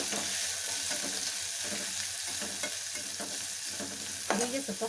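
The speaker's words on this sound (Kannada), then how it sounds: "ಹೀಗೆ ಸ್ವಲ್ಪ ಫ್ರೈ ಆಗಲಿ." Onions and curry leaves fry in a pan for a raw banana palya, giving a steady sizzle with rhythmic stirring strokes, and a few scraping knocks near the end.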